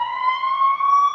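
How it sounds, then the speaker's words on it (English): A steady, loud electronic siren tone of a passing ambulance at night, holding a sustained pitch with only slight drift throughout. "there goes our nightly ambulance."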